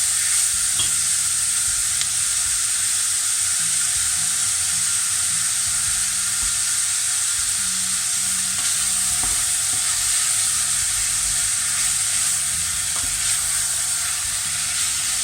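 Meat browning in a pan for a parmigiana, with a steady close sizzle and occasional stirring scrapes running throughout.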